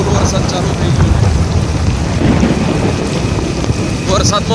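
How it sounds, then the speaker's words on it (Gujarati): Heavy monsoon rain pours down on a bypass road near Pavagadh, a dense, steady hiss of rainfall with low rumbling and wind noise, loud and close, with a few faint brief sounds near the end. "અને ખૂબ જ વરસાદ ચાલુ થઈ ગયો છે."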